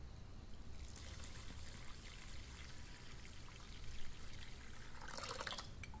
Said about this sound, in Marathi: धुतलेल्या तांदळात पाणी घालूया.